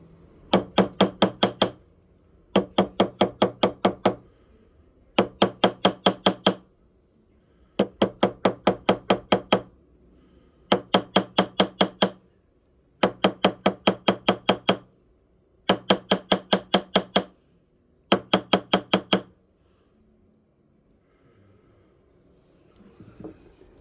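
A hammer taps on a metal part in eight quick bursts of rapid, ringing strikes, each burst a second or two long with short pauses between, then quiet at the end.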